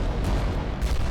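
Titan war machines trade artillery fire in the video game Adeptus Titanicus: Dominus, giving a dense continuous rumble of booms with a couple of sharper bursts standing out.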